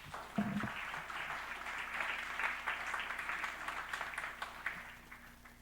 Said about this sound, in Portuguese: Em nome de Jesus, que possamos aplaudi-lo nessa noite.